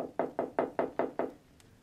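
Knocking on a wooden cottage door in a Snow White fairy tale: six evenly spaced, firm raps close by, then quiet, with no voices.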